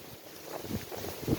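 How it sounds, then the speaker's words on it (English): Gusty wind buffets the microphone up on a high hill, rising and falling in low rumbling surges over a short stretch with no talking. "Yeah, it's getting real windy. We're high up, so it gets like this."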